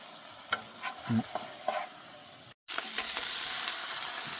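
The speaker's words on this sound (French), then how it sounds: "Je tourne le riz et pendant 2 minutes, je vais laisser bien prendre avec le beurre" Rice stirred and fried in butter and oil at a campsite, a few close scraping stirs over a soft sizzle, then after a brief drop-out a louder, steady hiss of frying.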